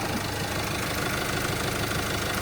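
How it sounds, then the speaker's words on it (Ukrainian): A 2015 Renault Master 2.3 diesel van engine idling, a steady, even mechanical drone with a faint knocking texture, close and loud throughout with no talking. "Двигунчик ніби працює рівненько, нормально."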